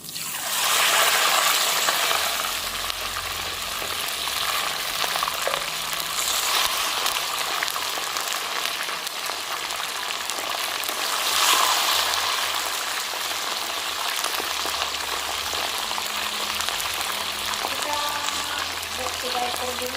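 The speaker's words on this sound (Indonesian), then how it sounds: "Ini kita goreng." Fish sizzles steadily in hot oil for a prepared sambal dish with petai, a dense crackling fry that holds throughout, with occasional faint clinks of a utensil near the end.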